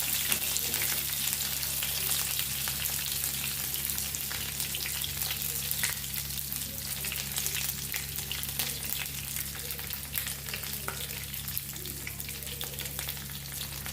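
Sesame seeds and curry leaves fry in hot oil with a dense, continuous crackling sizzle that holds steady and close throughout, with no voices.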